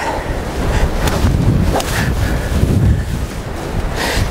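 Wind gusts across an open golf course, a broad steady rushing buffet against the microphone that swells and eases, with no talk.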